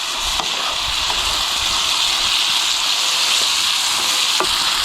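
Great Northern beans, drained and rinsed, sizzle steadily in a hot pan while being stirred, a continuous bright frying hiss with occasional soft scraping clicks and no talk.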